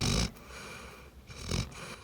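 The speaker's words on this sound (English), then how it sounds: "So quiet, you can hear Willa snoring as Eli reads to her" Dog snoring softly in a quiet public library, slow rasping breaths with two louder snorting pulls against a hushed room background.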